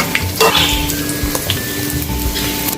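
Ingredients for moong dal panjiri with dry fruits fry in a hot pan with a steady, close sizzle, broken by a few brief clinks and stirring sounds.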